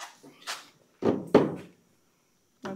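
An abandoned old Ford truck's faulty door is worked open and shut: a light rattle and creak, then two heavy metallic thunks close together, and another clunk a second later, all near and loud.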